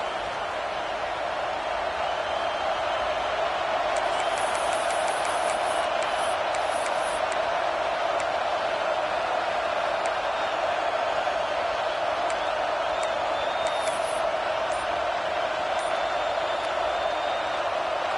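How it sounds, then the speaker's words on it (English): Football stadium crowd at a Texas A&M versus Nebraska game roaring steadily to back the defense late in a tied game, a dense sustained wall of cheering with scattered whistles and shouts on top. "this crowd is coming to help the defense"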